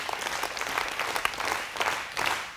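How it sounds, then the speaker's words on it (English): An audience claps in unison on cue during a communication workshop talk, a short run of distinct sharp claps spaced about a third of a second apart with light room noise. "When I say go, clap 7 times."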